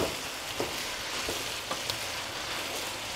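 Onions sizzle and fry in a pan, a steady close crackling hiss with small pops scattered through it, heard alone without speech.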